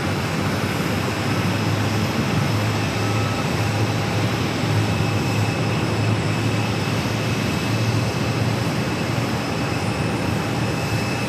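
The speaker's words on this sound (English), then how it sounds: "An Alaskan flight taxiing here." An Alaska Airlines jet taxis at Phoenix airport, its engines giving a steady, broad whine and roar at moderate distance that holds evenly and never pauses.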